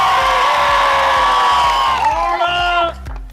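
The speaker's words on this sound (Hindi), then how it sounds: "तालियां" An audience cheers and applauds loudly and continuously, with whoops and shouts over a dense crowd roar and background music, fading near the end.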